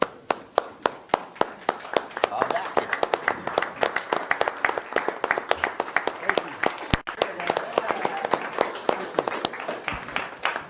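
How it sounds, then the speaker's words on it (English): A city council audience rises in a standing ovation, with many hands clapping in a lively, uneven patter that carries on for several seconds while a voice is faintly heard under it. "please, will you stand up and give these people a round of applause"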